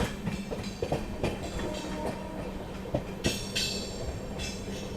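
A passenger train runs on a parallel track beside a moving train near the Kanpur bypass line in India, with a continuous loud rumble and rhythmic clickety-clack of wheels and a brief screeching burst midway.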